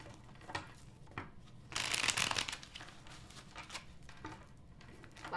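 Tarot cards shuffle close by, with light scattered flicks and taps followed by one louder, dense riffle burst, then more soft card handling.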